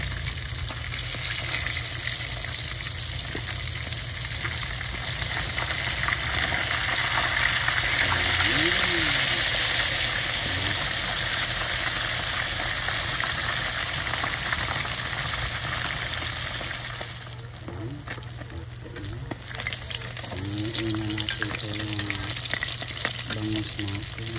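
Bangus (milkfish) fries in a pan with a loud, close sizzle while it is stirred and turned, and people talk over the cooking.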